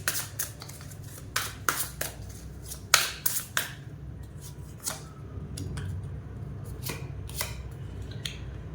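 Tarot cards being shuffled and drawn, heard as quick crisp flicks and papery snaps in uneven bursts, close and moderately quiet, with no talking.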